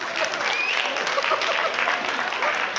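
Audience at an improv comedy show in Montpellier claps in a dense, steady burst of applause that stays loud and even for a few seconds, with faint crowd murmur mixed in.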